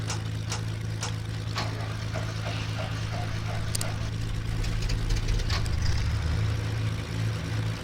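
In the FSX flight simulator, a turboprop's number 1 engine starts against the steady drone of an already running engine. Scattered switch clicks sit over it, and the low roar swells partway through.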